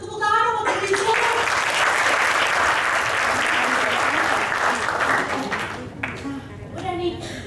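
A dense wash of audience applause at a Prudential business talk, loud and sustained for several seconds before it tapers off, with a speaker's voice coming back briefly near the end.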